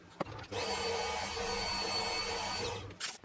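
A power drill whines steadily at a high pitch for a couple of seconds while boring through metal on a Webster engine model build, then spins down and stops, with a brief clunk before and after.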